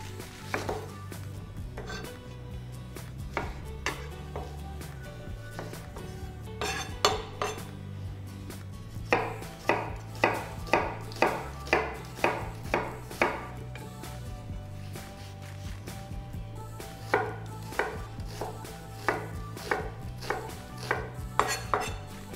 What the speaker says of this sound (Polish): najpierw pokroję cebulę w kostkę